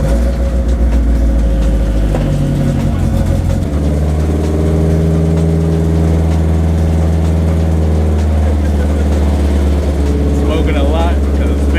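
A Mazda Miata engine with a turbo build, in rough condition from a previous owner's work, idles at slightly raised revs, a steady loud drone that runs throughout with small shifts in pitch, and a voice talks now and then.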